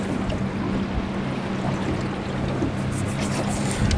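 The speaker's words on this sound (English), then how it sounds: "Wait till these waves go by." Boat wake waves wash past a river gravel bar during a fishing outing, a steady, close, rushing slosh of water that holds for several seconds with no talk.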